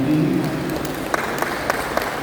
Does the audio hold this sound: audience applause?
yes